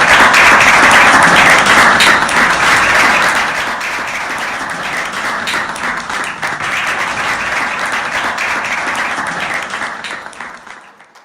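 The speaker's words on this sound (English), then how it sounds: "A huge round of applause, everyone." A large audience at a youth conclave applauds, loud and dense at first, then settling into a steady, slightly softer wash of clapping that fades away at the end.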